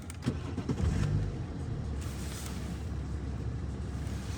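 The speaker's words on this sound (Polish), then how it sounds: "odpalimy sobie auto, zobaczmy jak auto chodzi tak naprawdę" A BMW 640d's 3-litre diesel engine cranks and catches with a brief louder burst, then settles into a low, steady idle rumble.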